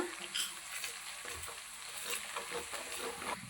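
Spices, garlic paste and curry leaves fry for a fish curry, giving a continuous close sizzle with soft stirring scrapes throughout.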